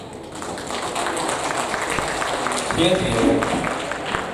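Audience applause at a debate final for the Sultan Zainal Abidin Cup, a steady wash of clapping from a hall full of people, swelling slightly toward the end with a few voices mixed in.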